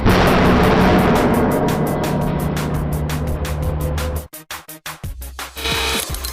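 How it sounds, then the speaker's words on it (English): A loud, continuous grinding roar with sharp repeated cracks as a giant obsidian ball is crushed in a hydraulic press, then a violent burst of shattering followed by scattered snapping pops. "The hydraulic pressure above the giant obsidian ball causes a very large explosion."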